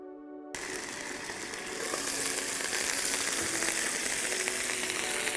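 Fish fries in a pan with a loud, continuous hiss and crackle that starts abruptly and grows stronger, filling the whole stretch close up and without pause.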